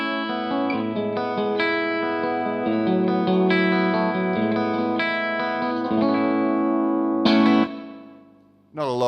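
An electric guitar run through a Hall of Fame reverb pedal on a GigRig G2 pedalboard plays sustained, ringing chords with a gentle reverb tail, close and steady, then breaks off with a sharp final strum.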